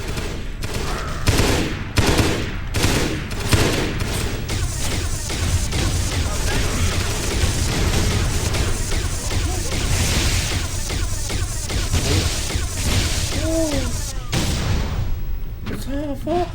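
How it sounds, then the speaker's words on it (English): Focus rifle fire in the video game Halo SPV3, rapid bursts of crackling weapon sounds mixed with other game combat noise, sustained and loud throughout with voices talking over it. "It's a focus rifle."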